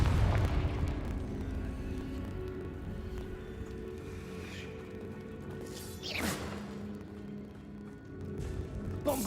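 Confringo explosion spell cast in a video game, a low rumbling boom with a swooshing whoosh partway through, then a softer follow-up burst over a steady ambient game background.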